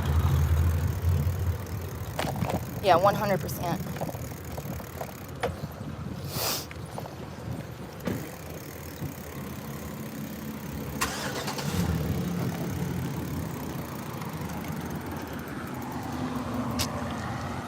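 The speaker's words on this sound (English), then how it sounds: "Oh, there's cars everywhere." Cars driving past and idling on a road, with engine rumble rising and falling and a few passing vehicles over a steady traffic bed. A person speaks briefly.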